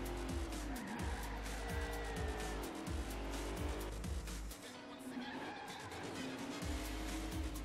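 Cars drifting in the Table Top Racing video game, a continuous engine drone with repeated squealing tire skids and revving gear shifts, steady and loud throughout.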